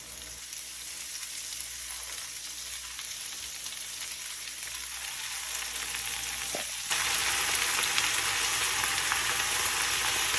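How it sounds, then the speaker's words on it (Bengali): Garlic sizzling steadily in a hot pan while greens are cooked, a continuous frying crackle that grows a little louder and brighter partway through, with no voices. "রসুন একটু চপ করে নিলাম। রসুনটা একটু ভাজা হয়ে গেলে তখন শাকটা দিয়ে দেবো।"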